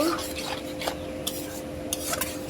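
A spoon scrapes and stirs ginger-garlic paste, salt and spices around a pan for prawn curry, a steady close rasping with light taps against the metal and a faint hum beneath.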